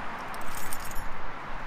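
A ring of color-coded keys jangles as it is handed over, a steady metallic clinking that lasts the whole moment, close and moderately loud.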